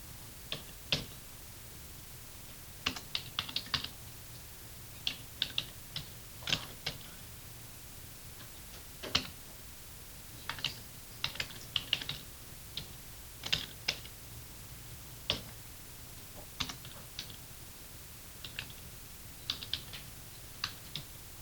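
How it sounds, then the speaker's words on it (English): Computer keyboard keys clicking as a long math function is typed, faint irregular bursts of taps and short runs with pauses between them, alone in a quiet room. "Type in that whole big long function right there."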